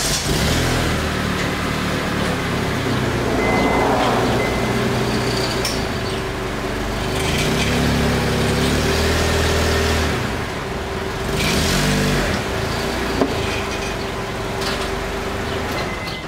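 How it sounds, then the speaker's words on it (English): A Honda CR-V engine rumbles steadily as the SUV creeps forward onto ramps, with low, continuous idling and slight rises in revs, close by, with no talking. "I'm actually going to pull it forward so that the rear is elevated a little bit more,"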